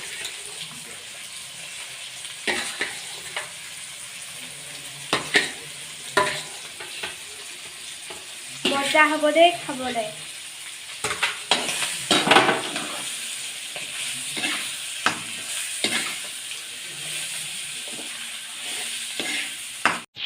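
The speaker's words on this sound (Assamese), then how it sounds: "এয়া শুকান ভাজিৰ কাৰণে দেউতাই মাংস কেৰাহীত দিছে।" Duck meat dry-frying in a wok with chilli and onion, sizzling steadily with stirring scrapes and a few pan clatters throughout, a voice speaking briefly at the end.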